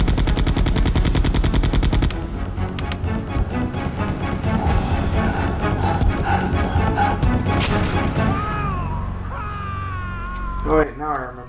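Rapid automatic gunfire rattles in Resident Evil 2, a dense burst of repeated shots for about two seconds followed by scattered shots, creature shrieks and game effects, with players talking over it.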